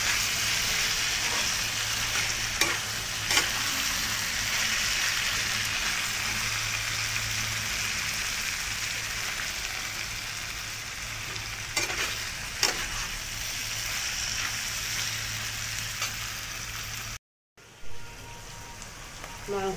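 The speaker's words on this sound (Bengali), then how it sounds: "দেখি কত সুন্দরভাবে মাংসটা তেল ছেড়ে দিয়েছে। ভালো করে আমাকে কষিয়ে নিতে হবে।" Chicken pieces sautéing in oil in a pan for a chicken kosha, giving a steady close sizzle with occasional stirring scrapes and clinks throughout, broken by a brief dropout near the end.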